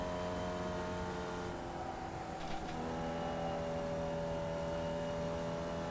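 A steady, droning engine note from a Formula Vee race car in a sim racing game at Alton Park, holding a constant pitch with little variation and no talk.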